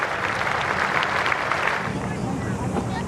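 A cricket crowd at a Test match in Wellington applauds a departing New Zealand batsman, with broad, distant clapping that swells and then thins out beneath a commentator's voice.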